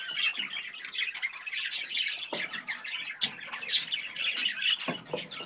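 Budgies in a breeding cage give busy, overlapping squawks and chirps close by, a continuous chatter with a few sharper calls.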